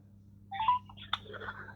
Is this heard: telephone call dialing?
yes